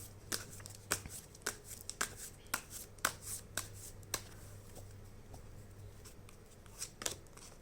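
Tarot cards are shuffled by hand in a run of crisp, riffling flicks and slaps, close up and fairly loud, spaced irregularly over a low steady hum.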